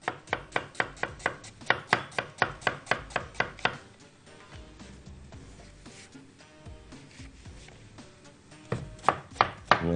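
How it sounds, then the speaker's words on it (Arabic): A knife chops onion on a board in a quick, even series of sharp taps. The taps pause for a few seconds of quieter kitchen sounds, then resume briefly, close and distinct. "وانا شغال بقطع البصل"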